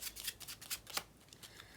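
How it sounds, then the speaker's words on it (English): A deck of playing cards being shuffled during a card trick, with quiet rapid riffling bursts of crisp flutter, close and faint, with no talk. "what I'm gonna do is have you shuffle this deck as well"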